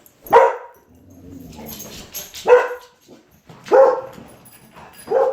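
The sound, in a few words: dogs barking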